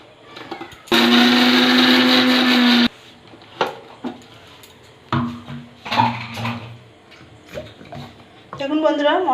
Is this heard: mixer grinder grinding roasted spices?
yes